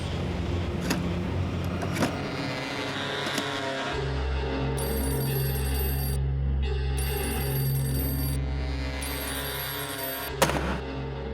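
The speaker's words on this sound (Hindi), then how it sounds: "ये विक्टोरिया जी भी ना फोन ही नहीं उठाती हैं।" A phone ringtone trills in repeated bursts over a steady low engine hum, ringing on without being picked up.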